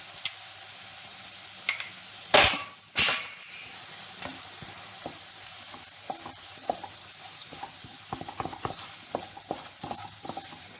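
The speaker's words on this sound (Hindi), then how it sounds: "अच्छे से फ्राई होने देंगे मैदे को।" Maida flour frying on low heat in a pan while a spoon stirs it, with two loud scraping bursts early on and then soft, scattered scrapes and faint crackle; no talking.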